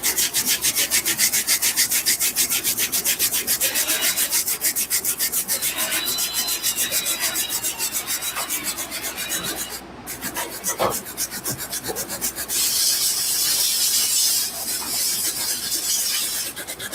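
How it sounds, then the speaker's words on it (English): Vigorous brushing scrubs the toe area of a suede shoe, a loud, close, continuous rapid rasping with a brief pause partway through. "we're gonna dive into actually scrubbing this toe area"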